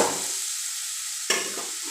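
Ripe mango chutney with spices is stirred in a hot pan, a steady soft sizzle with a sharp scrape of the spoon partway through, no voices.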